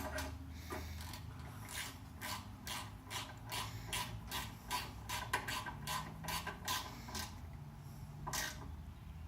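Ratchet with a 12mm socket clicking steadily as it tightens the rear shock bolts on a Honda VTX motorcycle, a close, rhythmic run of sharp pawl clicks in repeated bursts with brief pauses between.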